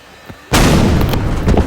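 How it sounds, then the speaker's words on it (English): A sudden loud boom erupts in the Roblox video game during a plane crash, followed by a sustained rumbling roar with a few sharp crackles. "Hear a tiny explosion."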